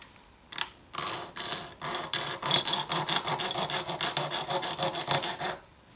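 Steady rhythmic sawing through a piece of wood for a nightstand makeover, close and fairly quiet, strokes repeating evenly for several seconds after a few initial scrapes.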